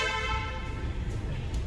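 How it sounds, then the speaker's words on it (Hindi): A car horn sounds in a single sustained honk in a mall parking garage, fairly faint, fading into low background rumble. "मेरे को ना इस इन पार्किंग में हॉर्न बजाने में बड़ा मजा आता है"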